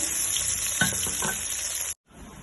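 Hilsa fish frying in oil in a pan, a steady loud hiss and sizzle with a few soft clinks of a utensil, cutting out abruptly near the end before a faint return.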